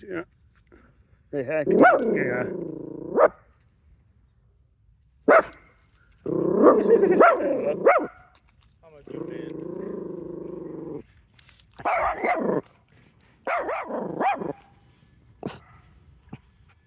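A dog indoors lets out short, intermittent bursts of barking mixed with low, rumbling growls, close and fairly loud, separated by brief quiet gaps.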